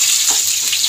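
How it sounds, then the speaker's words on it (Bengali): Potatoes fry in hot oil in a loud, steady, close-up sizzle that is bright and continuous, with no voices. "গরম তেলের মধ্যে আলু দিয়ে দিয়েছি ভাজার জন্য।"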